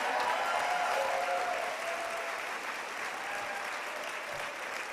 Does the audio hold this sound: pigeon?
no